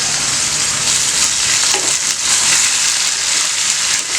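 Onion, ginger garlic paste, coriander and mint fry in a pan for minced mutton biryani, a loud, even sizzling hiss that continues throughout.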